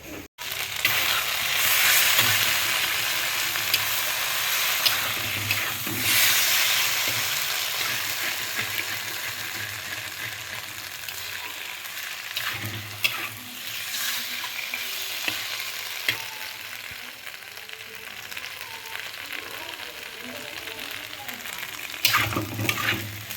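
Paneer curry with garam masala sizzles in a pan while a spoon scrapes and stirs it repeatedly, a close, continuous frying hiss with intermittent clanks and scrapes, and occasional voices in the background.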